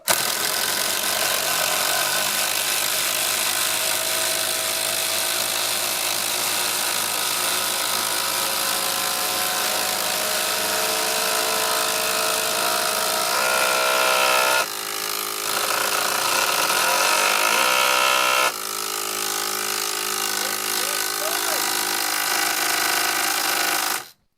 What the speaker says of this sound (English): we're going to drive these 150mm batten screws, 14 gauge batten screws, through sopping wet pine